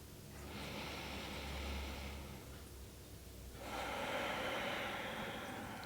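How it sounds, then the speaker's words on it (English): Deep yoga breathwork breaths, close and loud: a long airy inhale followed after a short pause by a fuller, rushing exhale, with no talking. "Big inhale. And exhale."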